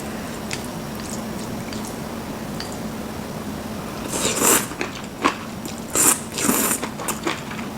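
Close, wet crunchy bites and chewing of raw cheonyeop (beef tripe), quiet at first, then several distinct crisp bursts with squishy mouth sounds between them.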